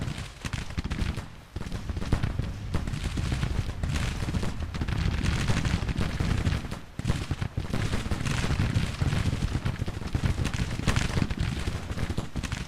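Civil War battle gunfire in the strategy game Grand Tactician: The Civil War, a dense, continuous crackle of musketry from the flank with booming volleys and short lulls, loud and unbroken for the whole stretch.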